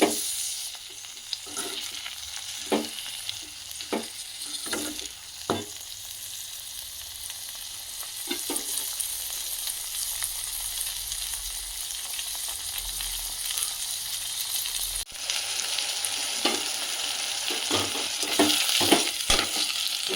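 Green chilies and tomatoes fry for a chutney in a pan, with a steady sizzle throughout and repeated sharp scraping knocks of a spoon stirring, close and fairly loud with no talking.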